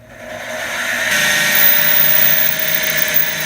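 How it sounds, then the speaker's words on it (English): A Model 6450 mini mill's steady high-pitched whine as a center drill bites in, rising slightly and holding a constant mechanical drone with no talking. "let's drill our second center drill hole"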